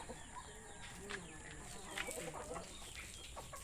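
Domestic chickens kept at a Filipino home cluck softly in a noisy outdoor setting, a few faint calls scattered over steady background hiss, with no talk.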